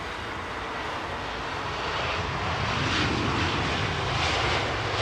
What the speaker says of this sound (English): This is a American 777-200 with Rolls-Royce Trent 800s. You can hear them purring.